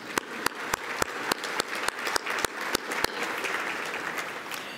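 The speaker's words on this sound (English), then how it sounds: "So please help me give them a round of applause." Audience applause at an innovation awards event, starting with a few distinct sharp claps that quickly swell into dense, sustained clapping from a sizable crowd, steady and fairly loud throughout.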